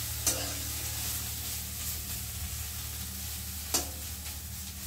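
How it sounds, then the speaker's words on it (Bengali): Mushrooms fry in a pan for a potato dish with a soft, steady sizzle. Two sharp utensil clinks stand out against the constant hiss, and no one speaks. "মাশরুম ভাজা হচ্ছে, আলু দিয়ে রান্না হবে।"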